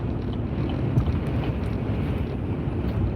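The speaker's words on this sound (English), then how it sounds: "it sounds windy out here" Wind buffets the outside of a truck moving along the road, a steady loud rushing roar with low rumble that continues without a break.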